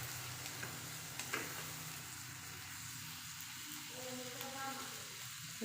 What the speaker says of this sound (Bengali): সরিষার তেল গরম করে বেশি করে পেঁয়াজ, রসুন, লাল মরিচের গুঁড়া, হলুদ সব কিছু দিয়ে প্রথমত এগুলোকে ভেজে নিচ্ছি